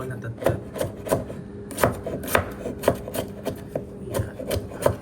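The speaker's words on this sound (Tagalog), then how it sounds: "Lang yung hipon. Yun yung tadtarin. Mas maganda yung manual na tadtad." Peeled shrimp being minced by hand with a knife on a board: a steady run of sharp, close chopping taps, some louder than others, with no voices.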